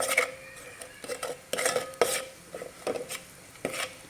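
Onions and chili powder being sautéed and stirred in a pan for Marathi-style egg curry, with repeated scraping and clinking of a spoon against the vessel in irregular strokes under a faint sizzle, close and moderately loud, no talk.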